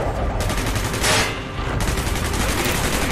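Dense, continuous automatic gunfire from Call of Duty: Black Ops on PC, rapid overlapping shots filling the scene at close range, loud throughout with a brief swell of blast noise in the middle.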